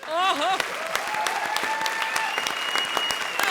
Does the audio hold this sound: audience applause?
yes